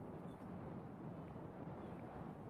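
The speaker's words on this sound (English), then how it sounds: "It's quite windy out there." Steady gusty wind rumbling across the microphone at an outdoor cricket match, a continuous low, broadband roar with no voices.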